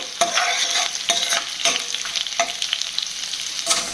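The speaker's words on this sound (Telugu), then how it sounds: "ఒక స్పూన్ మినపప్పు ఇవన్నీ చక్కగా దోరగా వేగాలండి" Urad dal and spices frying in hot oil in a pan: a steady close sizzle with repeated scraping stirs of a spoon, no voices.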